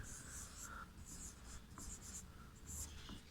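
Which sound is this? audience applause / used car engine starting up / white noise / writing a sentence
writing a sentence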